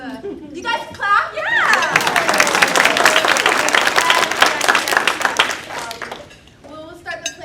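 A dinner theatre audience claps and cheers in a dining room, a dense burst of applause with whoops that swells after a voice speaks, then fades as talking resumes.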